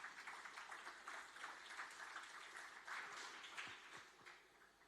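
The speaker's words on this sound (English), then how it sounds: "Please give them a warm round of applause." An audience at a university startup competition grand final gives a finalist team a round of applause, a continuous wash of many hands clapping heard quietly from a distance, holding steady for several seconds before easing slightly.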